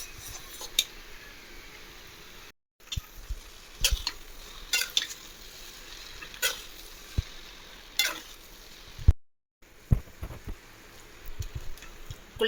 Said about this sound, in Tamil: வேக வச்சு எடுத்த நூடுல்ஸ் நம்ம அதில் சேர்த்துக்கலாம்.